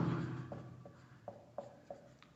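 A few distinct pen taps and short strokes on paper as a value is jotted into an equation, close and soft, with a brief voice fading out at the very start.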